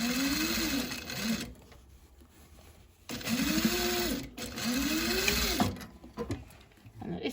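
Sewing machine stitching a half-centimetre seam on a fabric bag, running in two steady bursts separated by pauses, with a close, even mechanical hum and rapid needle rhythm.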